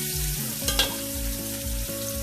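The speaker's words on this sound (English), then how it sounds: "Let it fry up." Onions fry in a smoked herring sauce, giving a steady close sizzle with a few brief stirring scrapes. No voices are heard.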